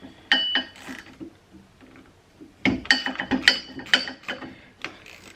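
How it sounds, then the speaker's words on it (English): A ratchet wrench with a 10mm socket works a bolt on the bogey wheel of a Ski-Doo R Motion rear suspension, with two bursts of quick clicking ratchet strokes, close and fairly loud, split by a quieter pause. "take your 10mm wrench and put it on the back. 10mm socket here"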